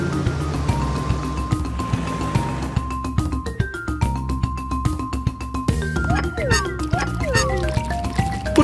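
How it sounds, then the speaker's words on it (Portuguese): Water running from an open tap in an animated cartoon, heard as trickling, dripping liquid sounds amid cartoon music and effects, with rising and falling tones toward the end. "Por que você abriu a torneira?"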